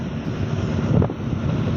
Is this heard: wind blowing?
yes